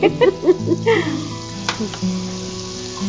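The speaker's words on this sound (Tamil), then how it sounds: "இதெல்லாம் வதக்கிக்கலாம். வெங்காயம் பூண்டு ரெண்டையும்." Onion and garlic sizzle in butter in a pan for a drumstick soup, a close crackling fry with a few stirring scrapes over a steady hiss.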